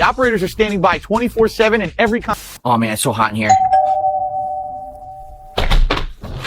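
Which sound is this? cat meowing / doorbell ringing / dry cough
doorbell ringing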